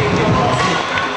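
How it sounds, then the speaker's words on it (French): Crowd at a French freestyle football championship cheering and applauding, a dense, loud and continuous roar across the whole short moment. "Applaudissements pour les membres du jury."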